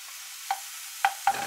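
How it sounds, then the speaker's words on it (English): Ground meat browns in a hot pan for parmesan-shell tacos, a low steady sizzle under three sharp utensil scrapes and clinks against the pan. "Let's get the meat into the hot pan."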